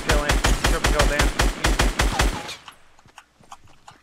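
Rapid automatic gunfire in Fortnite, a steady burst of about a dozen sharp shots over two seconds, then trailing off into scattered quieter pops.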